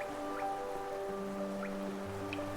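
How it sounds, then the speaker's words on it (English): Faint, scattered drips fall in Hollow Knight's rain-soaked cavern city, a few soft plinks over sustained ambient music tones. "the rain pours down from cracks in the stone above"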